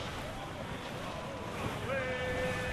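A sailing ship at sea in Assassin's Creed IV: Black Flag, with steady wind and wave wash and a sustained tone rising near the end. Someone speaks over it.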